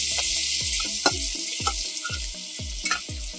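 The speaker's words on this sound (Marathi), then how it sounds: "लसूण आपला छान ब्राऊन कलरचा परतून झालेला आहे।" Garlic, green chili and curry leaves sauté in a pan, with a steady sizzle under repeated low scraping strokes of a spoon stirring at a regular rhythm.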